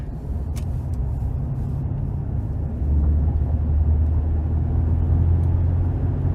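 2009 Chevy Silverado 1500 regular cab work truck with a 4.3 V6 on the move, a low steady engine and road rumble heard from the cabin that deepens and grows louder partway through.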